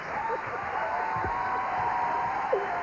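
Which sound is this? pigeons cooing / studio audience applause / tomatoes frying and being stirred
studio audience applause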